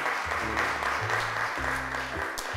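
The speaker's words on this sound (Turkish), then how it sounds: "Arkadaşların da alkışlayıp gönderdiler seni." Children in a television studio clapping steadily, a dense, continuous round of applause at moderate volume with a low musical drone running underneath.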